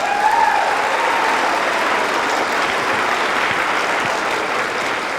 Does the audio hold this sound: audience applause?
yes